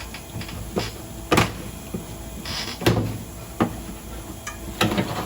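Cardboard box of new semi-truck brake shoes being opened, with several sharp rustles, flaps and knocks at irregular intervals, close by and moderately loud, with no talking.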